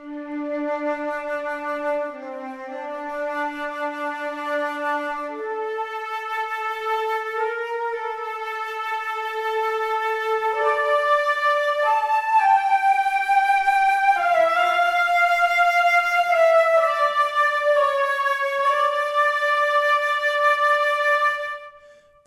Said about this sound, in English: We have the Abbey Road Orchestra Flutes loaded up in the Spitfire Audio plugin